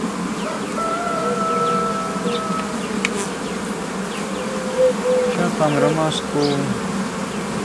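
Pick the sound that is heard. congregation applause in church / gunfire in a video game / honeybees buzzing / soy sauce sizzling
honeybees buzzing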